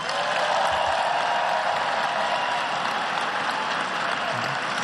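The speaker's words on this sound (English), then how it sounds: "Please give them a round of applause." A large arena crowd at a basketball jersey retirement ceremony claps continuously, a broad, even roar of applause with no letup and no clear voices above it.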